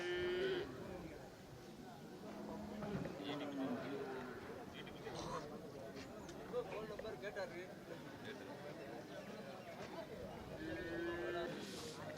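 Cattle low now and then at a busy cattle market in Devakottai, a few moos rising out of a steady crowd murmur and people talking nearby.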